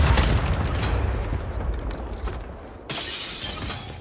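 A bomb blast in Call of Duty bursts out loud at the start with a shattering, crumbling roar that slowly fades, then a second sharp burst of debris and rumble hits near the end.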